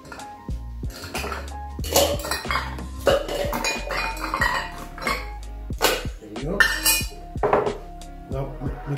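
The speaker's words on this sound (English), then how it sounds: "So it's a shaking drink, so we're gonna add some ice cube to our tin." Ice cubes clattering and clinking into a metal cocktail shaker tin, a rapid series of loud, close chinks and rattles while someone talks quietly in between.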